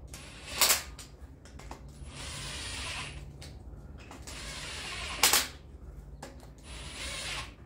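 A ratchet wrench clicks in several long steady runs while tightening bolts on an engine cylinder head, close and clear, punctuated by two sharp metallic clanks between strokes.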